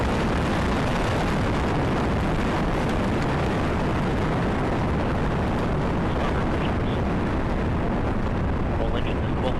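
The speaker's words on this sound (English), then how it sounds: "We have liftoff of the United Launch Alliance Delta IV Heavy rocket carrying the NROL L-65 mission for the National Reconnaissance Office." Delta IV Heavy rocket lifting off with its RS-68 engines at full thrust, a dense, continuous thundering roar with crackling rumble that fills the whole stretch at high, unchanging loudness.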